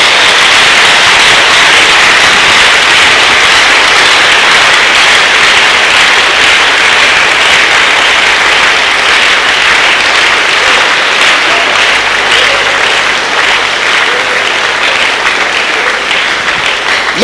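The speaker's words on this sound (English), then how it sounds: "Can we give a good clap of offering unto God, everybody?" A church congregation claps as an offering during a service, loud sustained applause from a large crowd that continues evenly for about seventeen seconds.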